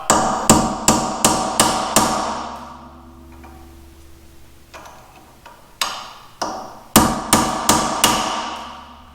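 A hammer strikes a wheel bearing nut to dimple it at the slot on an older Honda rear hub, sharp metallic blows in quick bursts of five or six, with a pause between bursts, loud and close.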